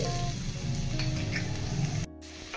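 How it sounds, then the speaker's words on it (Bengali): Chopped garlic and ginger sizzle steadily in about three tablespoons of hot white oil in a pan, a close, continuous crackle that runs unbroken before a brief dropout near the end; no one speaks. "প্যানের মধ্যে তিন টেবিল চামচ সাদা তেল দিয়ে দিলাম তেলের মধ্যে দিয়ে দেবো এক চামচ রসুন কুচি এক চামচ আদা কুচি"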